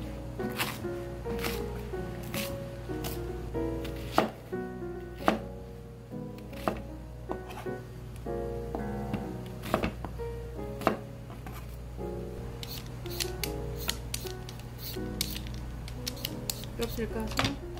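A knife cuts mackerel into chunks on a board for braised mackerel with potatoes, giving repeated sharp thuds and chops at an irregular pace over a steady low hum, with some voice in the background.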